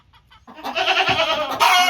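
Chickens cluck and squawk inside a messy homestead coop, a few soft calls at first, then a loud, close, continuous burst of overlapping hen noises.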